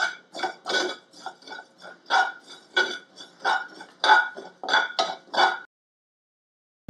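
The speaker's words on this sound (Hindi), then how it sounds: "बिल्कुल लो फ्लेम पे मैं इसको भून रही हूँ।" Cumin, carom seeds and fennel dry-roasting in a pan over a low flame, stirred so that bursts of light metallic clinks and scrapes come in an uneven rhythm, close and moderately loud, with no talking.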